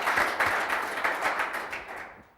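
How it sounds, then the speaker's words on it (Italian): An audience at a cycling event gathering in Veneto breaks into steady applause, dense clapping that holds level and then fades out toward the end. "Un applauso anche per Giorgio Furlan, vicepresidente vicario del Comitato Regionale Veneto."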